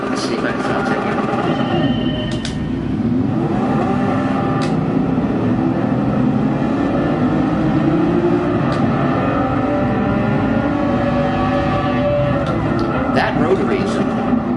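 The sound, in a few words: rotary race car engine in video game Gran Turismo Sport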